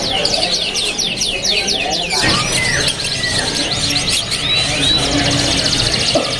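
Many caged canaries chirp and trill at a busy bird market, a dense layer of rapid overlapping tweets and warbles with a steady bustle underneath.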